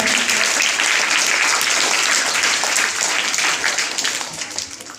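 An audience at a quiz competition applauds a team, a dense and loud burst of clapping that holds steady for several seconds, then thins slightly toward the end.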